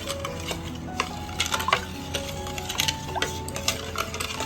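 A milk and jaggery mixture being stirred in a pot, with repeated scraping and clinking of a utensil against the metal over a soft bubbling background, close and fairly loud, with no voices.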